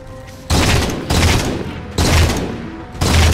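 Bursts of gunfire in the Halo 4 video game, four loud broadband volleys of roughly a second each with brief gaps between, close and dominant with no talk over them.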